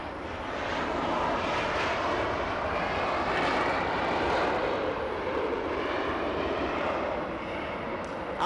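A British Airways Speedbird airliner inbound from London Heathrow flies past at Los Angeles, a loud, steady engine roar that swells gently and holds throughout with no voices.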